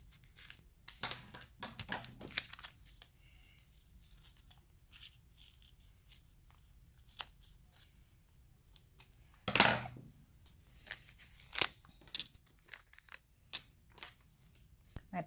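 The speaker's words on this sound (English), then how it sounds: "To cut through all of those thick layers." Scissors cut through thick stacked layers of fabric seam samples, giving repeated close, sharp snips and crunches in irregular bursts, with quiet pauses between cuts.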